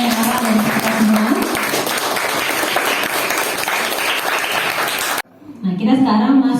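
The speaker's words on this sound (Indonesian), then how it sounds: "Boleh beri tepuk tangan untuk Niken, Ara, dan kita semua." Classroom students applaud in a steady, dense burst for about five seconds, then a brief drop before voices and scattered clapping resume, with talk mixed in throughout.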